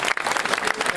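Brief burst of audience applause at a regional home-show event in Charente, a dense crowd of hands clapping continuously and fairly loud, with no voices over it.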